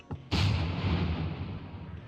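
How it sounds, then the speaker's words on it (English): A Minecraft tank cannon fires once: a short click, then a loud boom whose low rumble decays over nearly two seconds. "You can see that the cannon will shoot."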